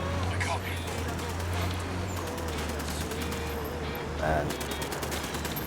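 Gunfire in Ghost Recon Wildlands on Xbox One, rapid distant automatic bursts rattling steadily beneath a low engine rumble, with someone talking briefly over it.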